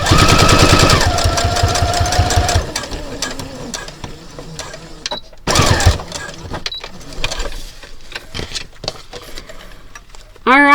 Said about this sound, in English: now I'm going to do another stitch right over the top of it.